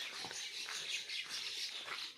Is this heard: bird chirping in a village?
yes